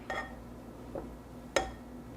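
A spatula scrapes sticky toffee pudding batter from a mixing bowl, giving three faint, brief clinks and scrapes spaced apart in a quiet kitchen.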